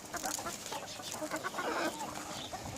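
Backyard chickens cluck busily at feeding time in a farm garden, a dense, moderate chorus of overlapping clucks with no voices.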